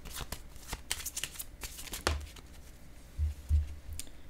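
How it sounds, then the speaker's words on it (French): Tarot cards shuffled and drawn by hand, a quick run of soft papery riffles and slaps with a few duller thumps, close and fairly quiet, with no talking. "J'ai quasiment le goût de piger une carte rose."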